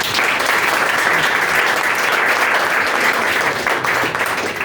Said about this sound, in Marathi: याच्यापेक्षा जोरात टाळ्या वाजवायला पाहिजे